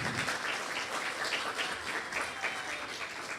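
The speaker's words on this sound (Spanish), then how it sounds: "Medina Rengifo, representante de INDECI, para cual igualmente pido un fuerte aplauso." An audience at a forum on disaster risk reduction in Peru gives strong, sustained applause for an INDECI representative, a dense, even roar of clapping from many hands in a hall.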